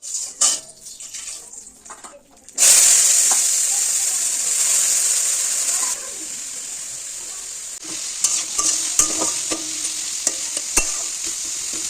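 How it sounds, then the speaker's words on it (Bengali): Bitter gourd frying in a pan on the stove while rice cooks beside it makes a steady, loud sizzle and hiss. Scattered clinks and scraping from stirring cut through it, with no voices. "রান্না বসিয়ে দিয়েছি এক সাইডে দিয়েছি ভাত বসিয়ে আর এক সাইডে দিয়েছি উচ্ছে ভাজা"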